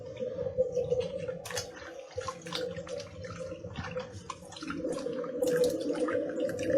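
Running tap water rinsing an antique French or German all-bisque doll, a steady splashing stream with intermittent knocks and drips, growing slightly louder toward the end, with no talking.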